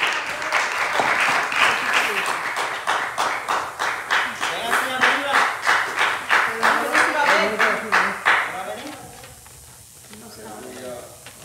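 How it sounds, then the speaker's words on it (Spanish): A church congregation claps at a home Lord's Supper service, a loud rhythmic unison beat with voices carrying over it, before the clapping thins and fades near the end. "Un aplauso."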